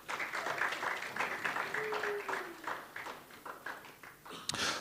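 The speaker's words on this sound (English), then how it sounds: "please welcome her with a warm round of applause" Scattered applause from a conference audience welcoming a panelist, moderate and fairly close, thinning out toward the end with a few louder claps.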